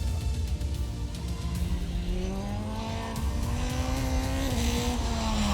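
A performance car is driven hard on a race track during a track day, its engine droning steadily and climbing in pitch as it accelerates through the gears, loud and continuous, with tire noise and no talk.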